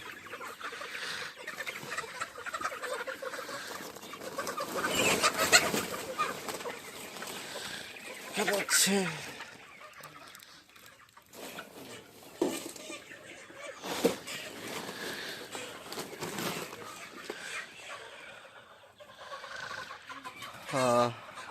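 Sonali chickens cluck and squawk at a farm sale, a busy layered clamor of birds with a few louder bursts standing out and voices mixed in.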